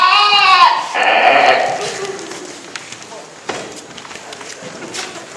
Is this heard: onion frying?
no